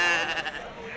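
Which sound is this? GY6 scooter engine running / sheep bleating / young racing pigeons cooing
sheep bleating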